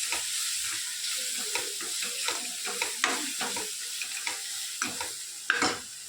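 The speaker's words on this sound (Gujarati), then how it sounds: "બધું સરસ આપણે શેકી લઈએ" Masala spices stirred and roasted in a pan for sev tamatar, a steady close sizzle broken by repeated scraping and stirring strokes, with no voices.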